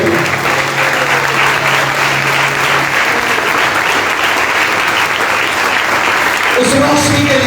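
A church congregation at a Sunday service breaks into loud, sustained applause, dense clapping filling the space alone, swelling near the end.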